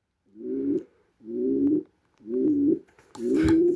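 A pet bird in its cage gives four low, rounded coos in a steady rhythm with brief pauses between them, close and clear, with a faint rustle near the end.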